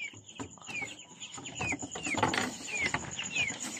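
Several chickens in a backyard poultry farm cluck and squawk close by in short, overlapping calls, with a few rising chirps among them.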